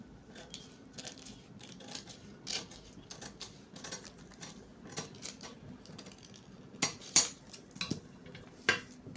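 Scissors snip through fabric to cut out a sewing yoke for a bustier, giving a steady run of faint, close clicks and cuts with a few sharper snaps near the end.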